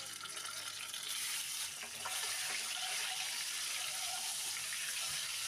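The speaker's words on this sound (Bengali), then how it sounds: "তেলটা গরম হলে ডিমগুলো ভেজে নেব।" Eggs frying in hot mustard oil in a pan on a gas stove, a steady loud hiss and crackle of sizzling oil running continuously throughout, close up, with no talking.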